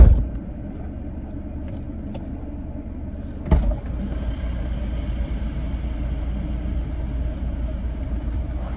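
A car engine rumbles low and steady from inside the vehicle, with a brief thump near the middle as someone gets in, then a slightly louder continuous rumble.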